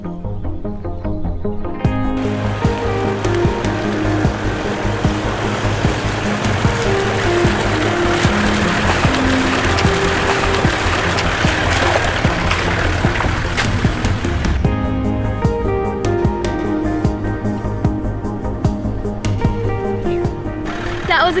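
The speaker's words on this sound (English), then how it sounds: "We have a dirty water crossing right here." A 4WD engine rumbles steadily while driving through a muddy water crossing in the Kimberley, Australia, water churning and splashing around it, continuous and close throughout.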